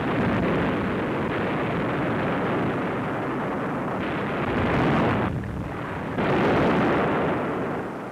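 Bombs burst on railways in a 1944 wartime newsreel, a continuous rumbling roar of explosions with heavier surges toward the end, heard alone without narration.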